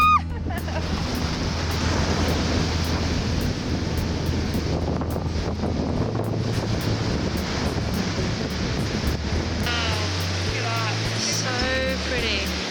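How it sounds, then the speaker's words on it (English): Ocean waves wash steadily onto Ursa Beach on the rugged Sintra coast near Cabo da Roca, a broad continuous surf roar with wind buffeting the microphone and brief faint chirps toward the end. "We finally got to Ursa Beach, which is one of the most beautiful beaches on this walk."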